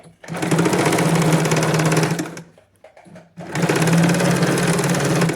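A sewing machine runs loud and close as it stitches the shoulder seams of a child's frock. Two long, even whirring runs are split by a short pause with small clicks.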